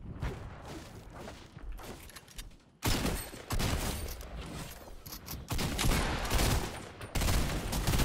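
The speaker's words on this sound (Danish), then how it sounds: "Jeg mister måske lige 3 skud." Gunfire in a Fortnite match rattles off as repeated close bursts and volleys, loud and sharp, with short pauses between bursts.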